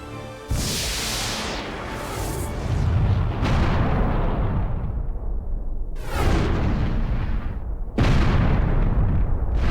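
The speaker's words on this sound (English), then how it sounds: "Incoming fire from the unknown vessel." Heavy explosions from incoming fire striking a spaceship in Star Ocean: The Last Hope, a series of loud booming blasts, each followed by a long rumbling decay, with a fresh impact every couple of seconds and no voices.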